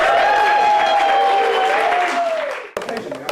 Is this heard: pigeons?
no